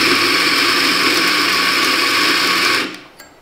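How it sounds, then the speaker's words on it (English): A Eureka Mignon electric coffee grinder grinds coffee beans with a loud, steady high-pitched whirring drone that holds evenly for about three seconds, then abruptly stops and fades out. "if we try a second with the new coffee grinder"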